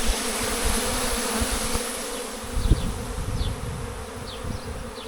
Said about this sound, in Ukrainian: У нас рій виходить.